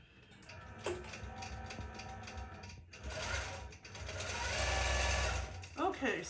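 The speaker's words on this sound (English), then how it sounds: "now we have both sides of our mermaid stitched out, and I've taken it off of the machine" An embroidery machine stitches out a mermaid tail design with a continuous mechanical whir and rapid ratcheting, gear-like clatter, close by. A brief voice is heard near the end.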